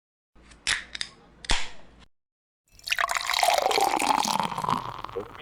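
A bottle of Highland Brewing Gaelic Ale opened, giving a few sharp cap clicks and pops, then after a brief pause a sustained fizzing, foaming rush of beer boiling over, fairly close and without talk.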